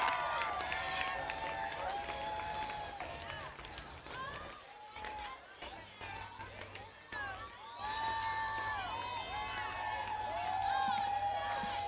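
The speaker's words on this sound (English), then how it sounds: "Crowd is loving this." A dense street crowd roars and cheers along Beale Street in Memphis during the AutoZone Liberty Bowl parade, loud and sustained, with shrill whistle-like tones and babble rising and falling throughout.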